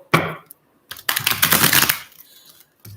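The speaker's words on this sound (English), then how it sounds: "So let's give these cards a shuffle." Tarot cards from a Psychic Tarot deck shuffled by hand: a short riffle burst, then a longer dense crackling shuffle lasting about a second, and a final brief tap, close and fairly loud with no talk.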